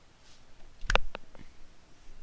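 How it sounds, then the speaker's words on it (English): A single sharp slap lands about a second in, followed by a couple of faint smaller taps, against a quiet background. "That was the sound of my face impacting with my palm."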